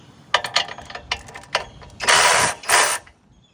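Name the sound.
loosening the post assembly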